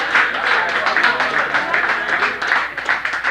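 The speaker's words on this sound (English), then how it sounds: "give Riley Childs a big round of applause there" A small audience applauds a high school football player at a touchdown club coaches show, a steady close patter of many hands clapping for a few seconds with a voice talking faintly underneath.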